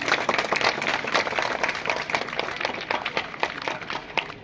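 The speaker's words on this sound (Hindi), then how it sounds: "जोरदार तालियां इनके।" A crowd at a school classroom inauguration ceremony gives steady, close applause, a dense patter of many hands that carries on evenly to the end.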